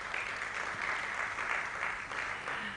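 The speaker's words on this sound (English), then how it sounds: "Let's give a round of applause to Andrew" Audience applause at an international technical university conference in Kenya, a brief steady patter of many hands clapping together in a hall.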